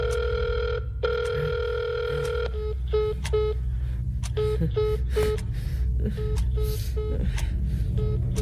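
A phone ringing unanswered, repeated electronic ring bursts in a steady rhythm, loud and close, one long tone followed by a series of shorter pulses.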